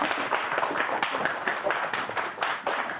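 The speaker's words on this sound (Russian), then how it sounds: "поддержите нас аплодисментами" An audience claps together at a live evening show, a dense steady patter of applause that continues for the whole stretch.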